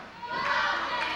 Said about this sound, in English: You hear the crowd go, Nick, go.